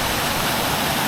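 The Nant Melyn waterfall roars as a dense, steady rush of falling water, loud and close, with no break or variation.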